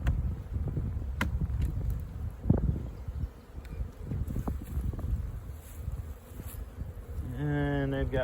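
Honey bees hum steadily around an open hive whose queen is poorly marked blue, a dense close buzz with wind noise on the microphone and brief knocks, ending in a rising tonal drone.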